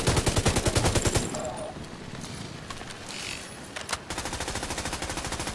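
Rapid bursts of gunfire in the video game The Division 2, loud repeated shots opening and closing the passage with quieter combat noise between.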